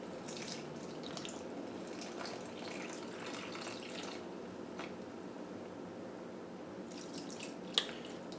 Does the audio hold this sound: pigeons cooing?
no